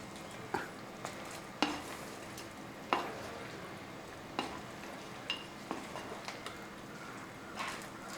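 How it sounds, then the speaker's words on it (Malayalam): Gobi manchurian with coriander leaves being stirred in a pan, soft scattered scrapes and taps of the spoon over a faint steady sizzle, quiet and close, with no voices. "ഇത്തിരി മല്ലിയിലയും കൂടെ ഇതിൻ്റെ മുകളിലോട്ട് ഇട്ട് കൊടുക്കും ഇനി ഒന്ന് ഇളക്കി കൊടുക്കും"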